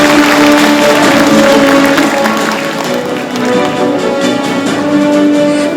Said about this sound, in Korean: 김관용 전 도지사님께 다시 한번 큰 박수 부탁드립니다.